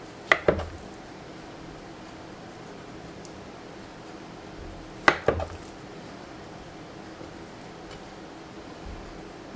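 A knife cuts biscuit dough into half-inch pieces on a pan, heard as a few sparse, sharp taps and knocks, one near the start and a pair about midway, against a quiet background.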